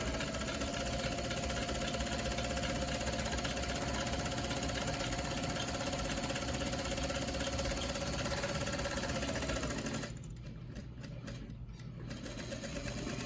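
A sewing machine back-stitches the fabric strap of a mask. Its motor whirs in a steady, close hum that cuts off near the end and gives way to a quieter pause.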